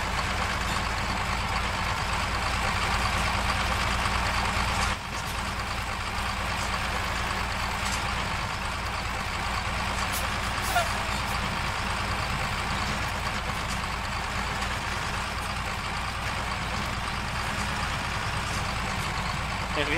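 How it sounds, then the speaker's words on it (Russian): KamAZ truck engine in the Spintires off-road driving game, a steady low idling rumble that runs unbroken for the whole stretch, close and fairly loud, with a brief dip partway through and no voices over it. "Это звук КамАЗа."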